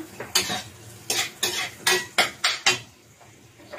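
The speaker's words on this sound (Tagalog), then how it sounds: "Lagay ko lang ang aking chorizo de Bilbao guys. Tagisa ko lang siya." Chorizo de Bilbao sautéed with onion in a pan. About seven close, rhythmic clanks and scrapes of a utensil against the pan are heard alone, with no talking.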